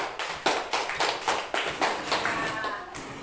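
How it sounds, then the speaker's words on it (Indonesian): A classroom audience claps for a student group after its presentation, a burst of scattered hand claps with uneven rhythm, fairly close and moderately loud, fading slightly toward the end. "Sekali lagi beri aplaus untuk kelompok 3."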